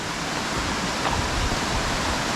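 The Sta. Lucia river in Nagcarlan, Laguna rushes in a loud, steady broadband roar of flowing water, close and continuous, with no voices over it.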